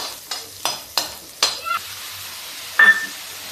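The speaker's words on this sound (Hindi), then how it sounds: "और साथ में ही मेरा लहसुन। अब इसको भून लेते हैं थोड़ी देर।" Garlic fries with chopped onion in a pan, with a few sharp stirring scrapes and hissing bursts, then a quieter sizzle and one last clatter. It is heard up close, and no one speaks.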